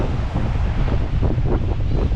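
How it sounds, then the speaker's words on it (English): High ocean waves crashing against rocks along a rural Japanese coast near Iwami Ginzan, a continuous loud roar of surf mixed with heavy wind buffeting the microphone. "Look how high the waves are."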